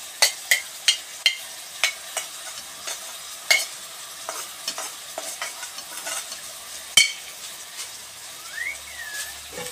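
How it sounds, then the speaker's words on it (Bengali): Fried potatoes sizzle in curry in a pan while a spatula scrapes and stirs in sharp, regular strokes, close and clear, with a low steady frying hiss underneath. "এই আলুগুলো সব দিয়ে দেবো অল্প অল্প করে, আর একসাথে জিনিসটা কষানো হলে তখন ভালো হবে"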